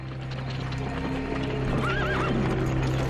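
Frightened horses give a loud wavering neigh over steady clip-clopping hooves and a constant background hum, with no talk.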